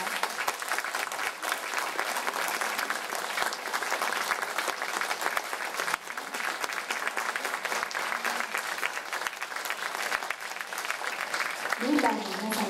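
A long, steady round of applause from the audience for the members of the folk-music group at a public seminar lecture on Andean folklore, dense and continuous throughout, with a brief voice near the end.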